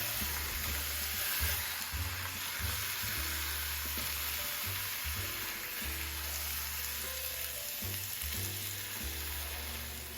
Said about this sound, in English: Gonna brown it on the other side now and let that cook through.